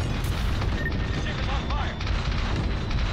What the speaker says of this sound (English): Oh, it's dive bombers.